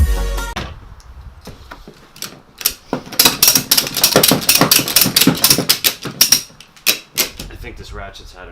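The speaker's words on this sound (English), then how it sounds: "I think this ratchet's had enough too." Ratchet wrench worked on a car, rapid clicking bursts close up, interspersed with brief pauses and a voice speaking in between.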